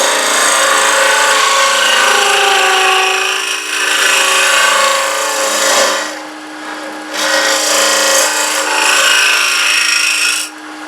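A round nose scraper works the inside of a wooden box on a lathe, giving a loud continuous rasping scrape that pauses briefly a few times as the tool lifts off the spinning wood.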